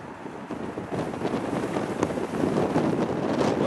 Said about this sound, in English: Literally this wind is just off the back shoulder, my right back shoulder here.